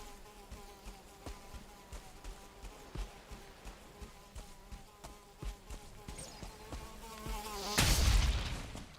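Deathsquito buzzing in the Valheim video game: a steady insect-like drone runs throughout under game sounds and thumps, building to a loud, harsh burst near the end.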